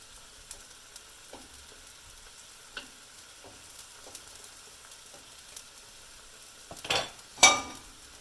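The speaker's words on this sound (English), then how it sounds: "as our bacon steaks are just kind of boiling away here." A faint, steady sizzle of bacon steaks cooking in a pan, with a few soft clinks and then two louder utensil scrapes near the end.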